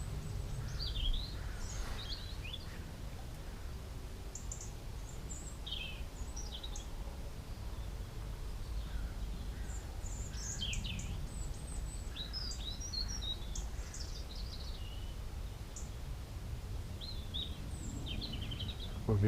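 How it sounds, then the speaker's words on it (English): Birds singing beside a river during roach fishing, bright chirps and warbled phrases scattered throughout from moderate distance over a constant low rush of flowing water and wind. "Birds singing away."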